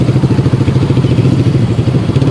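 Suzuki Raider 150 motorcycle engine with an engine fault running close and loud, a rapid uneven chugging pulse with clattering beats throughout.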